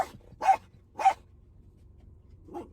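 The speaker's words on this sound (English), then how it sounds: "Why are you barking at dogs?" A dog barks twice in close succession, loud and near, then gives a softer third bark after a pause; no one speaks.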